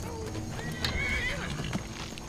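A horse in Skyrim whinnies with a rising, wavering call while hooves clip-clop nearby, the animal sounds sitting over a quiet game background.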